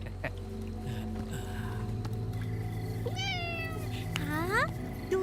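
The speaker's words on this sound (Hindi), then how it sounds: "हाँ, दूसरी बिल्ली।" A cat meows in a Hindi film scene, with two rising, drawn-out cries heard over a steady background hum and a faint low voice.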